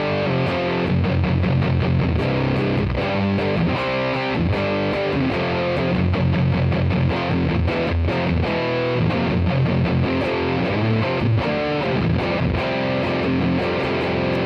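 An electric guitar plays through a Caline Head Room CP-34 distortion pedal with the distortion turned up, a loud, continuous stream of fuzzy, saturated chords and notes with no talking.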